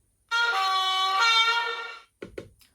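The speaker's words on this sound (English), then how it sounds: "Function 13 is the air horn signal apparently." Air horn of a Hornby Class 31 model diesel locomotive in Railfreight red stripe livery, played through DCC sound: one loud sustained two-tone blast of about two seconds, then two short lower toots, heard alone.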